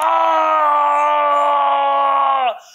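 A voice imitates the demon king Ravana screaming in pain, one loud, sustained, strained cry held for over two seconds before dropping away sharply.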